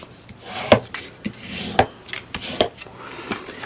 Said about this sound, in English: So I'm just going to give that a good burnish.